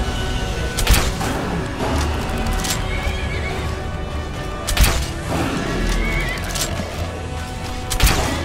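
A horse in the video game Skyrim neighs loudly and repeatedly over a busy, dense background of game sound, with sharp crashes recurring at intervals.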